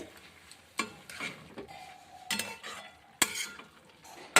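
A spoon scrapes and knocks around a pan of onions and potatoes in uneven bursts, with a soft sizzle of frying food underneath; no one speaks.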